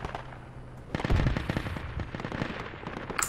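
Bursts of rapid automatic gunfire from the tactical shooter game Project Reality crackle close and loud, with a short pause before a dense volley and scattered shots trailing after, and no voices.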